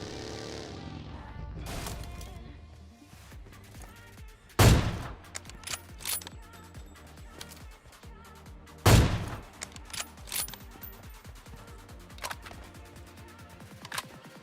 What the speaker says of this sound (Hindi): अभी लेफ्ट में ना फायरिंग का साउंड आता है